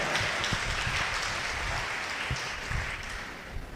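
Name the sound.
congregation clapping loudly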